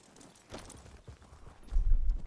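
Horses in The Elder Scrolls Online game, with soft, quiet hoof clops and shuffling that rise slightly in loudness near the end, heard alone.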